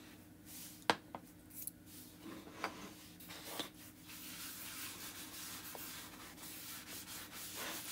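Soft rubbing and scuffing as wax is rubbed onto a painted surface, close and quiet, with a few small taps and clicks early on, then a steady faint friction.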